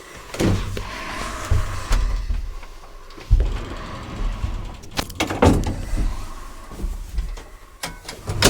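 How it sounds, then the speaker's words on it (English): Doors of a vintage lift slide and thud shut, with mechanical rumbling, clunks and a few sharp knocks spread over several seconds, close and fairly loud. "Doors closing."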